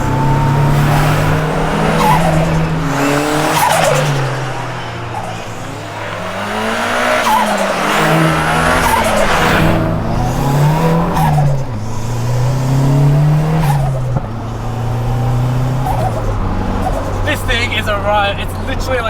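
A big-turbo sleeper drag car pulls hard through the gears, its engine note rising and dropping in repeated sweeps as each shift lands, loud and close with tire noise throughout and a voice talking over it.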